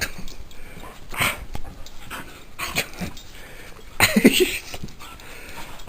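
A dog whimpers and whines in short bursts around a person giving it commands, with a louder cluster of whines near the end, all heard close by.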